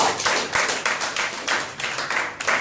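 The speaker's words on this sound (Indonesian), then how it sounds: "Tepuk tangan untuk Anda." Audience clapping at a motivational seminar, a brisk run of hand claps in a rhythmic, pulsing pattern, fairly close and clear with no talking over it.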